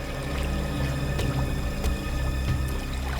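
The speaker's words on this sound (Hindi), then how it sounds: "सर इस तरफ से पानी के बहने की आवाज आ रही है।" Flowing water somewhere ahead produces a continuous, moderately loud rushing wash with faint scattered clicks, and no voices over it.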